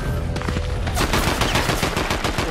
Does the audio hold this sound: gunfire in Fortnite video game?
yes